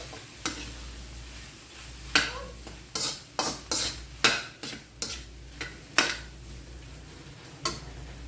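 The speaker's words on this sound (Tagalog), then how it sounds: "Haluin ulit para magpantay." Spoon stirring dinuguan in a pot, with a series of distinct scraping strokes at an irregular rhythm over a soft background simmer, close and fairly loud with no talking.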